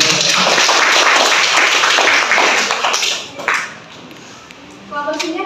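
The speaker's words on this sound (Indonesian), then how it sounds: "Tepuk tangan dulu." Classroom audience applauds a group's English dialogue presentation during an academic supervision session, broad dense clapping that fades after about three seconds, with voices and light tapping afterward.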